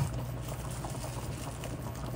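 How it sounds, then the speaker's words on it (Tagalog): Pork leg (pata) simmering in a pot with kardis bananas for nilaga, giving a steady low bubbling and a soft watery patter, close and even throughout with no voices. "tuloy na natin yung pakulo"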